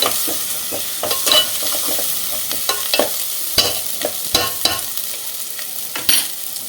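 Ginger and onion frying in a pan for goat head curry, stirred with repeated scraping strokes over a steady, loud sizzle, with no talking.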